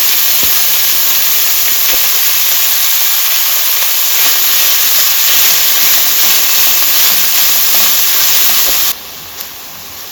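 Curry leaves frying in hot oil for chinthachiguru pulihora, a loud, continuous, close-up hiss that holds steady for most of the stretch before dropping away abruptly near the end.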